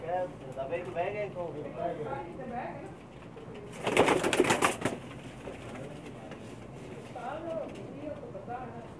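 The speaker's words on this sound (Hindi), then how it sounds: "ये कुछ और कबूतर दिखा रहे हैं जी उस्ताद एहसानुल हक सानी साहब के जी।" Pakistani pigeons on a rooftop in Jeddah, with soft cooing and bird calls under steady talk, and a brief louder burst of flapping or rustling midway before the cooing continues.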